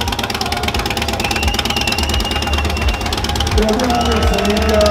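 An Indian motorcycle engine runs at a bike show, a loud, steady, knocking idle with a rhythmic mechanical rattle, heard close up under people talking.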